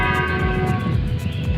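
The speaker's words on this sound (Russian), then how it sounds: "В 6 часов звонят колокола." Church bells ring at six o'clock in the Belgian town of Florenville, a dense ringing of overlapping tones with a steady rhythmic pulse, heard fairly close.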